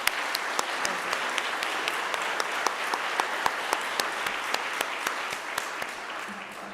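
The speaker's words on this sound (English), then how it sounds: "Can we give them another round of applause, please?" A steady, full round of audience applause at a human trafficking awareness event, many hands clapping at an even level throughout with sharp individual claps standing out.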